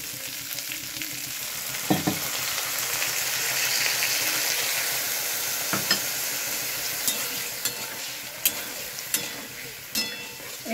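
Fried spice paste stirred in a hot pan with a little water, a loud continuous sizzle with scattered scraping and clinking strokes of the spoon throughout.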